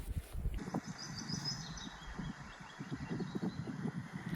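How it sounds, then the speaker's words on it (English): A willow warbler's song plays back from a phone recording outdoors at Druridge Pools: thin, high warbling phrases, faint and brief, under steady wind and handling rumble. "I'm very chuffed to hear our first willow warbler"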